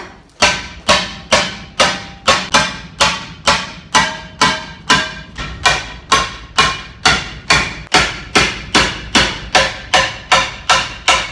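Hammer tapping a bent aluminum sheet held in a vise while fabricating a replacement panel for a welder/generator, about thirty sharp, evenly spaced metallic blows in a steady rhythm, close and loud with no talking.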